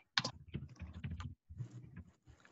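Typing on a computer keyboard in quick irregular bursts of key clicks, close and moderately quiet, with brief pauses between runs.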